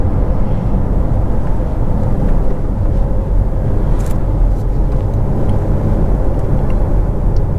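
Electric Peugeot 2008 GT at full throttle around 100 km/h, a steady, loud rush of road and wind noise with a low hum, continuous throughout and no talk.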